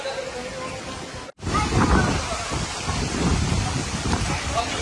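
Heavy rain and strong wind during a village gathering make a steady broadband roar with gusting rushes, briefly cut off, then returning under people talking.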